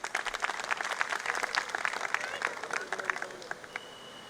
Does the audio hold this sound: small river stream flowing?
no